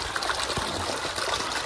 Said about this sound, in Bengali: জল বেরোচ্ছে বেশি? না, অল্প বেরোচ্ছে